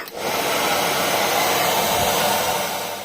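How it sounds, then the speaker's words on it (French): A hair dryer blows steadily into an ant terrarium, a loud, continuous broadband whoosh that starts after a brief pause and holds evenly for about three seconds with no talking. "je vais tout flinguer au sèche-cheveux"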